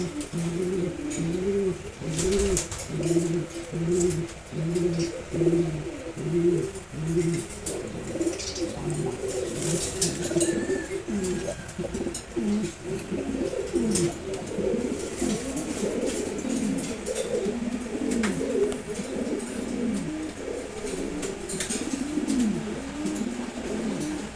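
Red checkered pigeons coo in steady repeated bursts, several birds overlapping at close range, with occasional chirps and faint rustling in the background.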